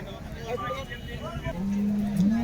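A Holstein Friesian cow at the Baramati cattle market gives a single drawn-out low moo near the end, heard against a busy outdoor market murmur.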